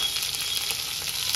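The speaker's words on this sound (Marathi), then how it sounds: "आणि आता ह्याच्यामध्ये मोहरी, हिरवी मिरची," Mustard seeds and green chili fry in hot oil with a close, steady sizzling crackle that has faint popping textures through the short stretch.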